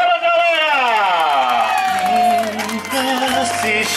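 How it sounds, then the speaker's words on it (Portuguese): Party guests at a wedding anniversary celebration cheer, whoop and clap together, loud and close, with raised voices throughout. "Uma salva de palmas, galera!"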